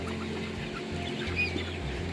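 Chickens cluck softly at night on a cabin homestead, low murmuring calls close by against a steady background hum.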